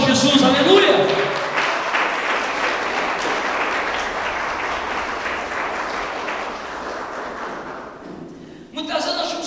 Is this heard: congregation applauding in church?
yes